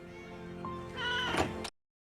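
A cat meows once, fairly loud and close, a drawn-out cry rising in strength before it cuts off, from a TV show with no talk over it.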